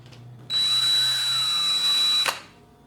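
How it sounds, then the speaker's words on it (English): Power drill whirring steadily at up to 600 RPM while turning the digit counter of a DeLorean, a loud continuous whine starting abruptly and stopping after about two seconds. "This drill goes to 600 RPM."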